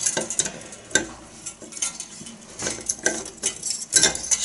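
Thin wire pushed and scraped inside a clogged bathroom sink drain, giving irregular metallic scratching and clinking with a few sharper knocks, close up and with no talking.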